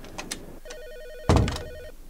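A phone rings in the horror game P.T., a trilling electronic ring pattern repeating under footsteps and a louder thump, fairly close and clear, with no talking.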